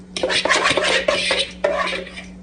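Glass noodles being tossed with a thick honey garlic sauce in a pan, a steady run of scraping and clinking of utensil against metal, close and busy, with no talk.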